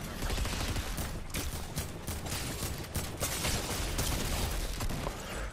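Rapid, dense bursts of automatic gunfire in the video game Fortnite crackle almost continuously at a loud, even level with no pauses.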